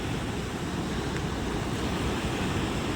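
Flooded river water rushes loudly and continuously near the Nashik Road bridge after heavy dam releases, a dense unbroken roar with no pauses and no voices.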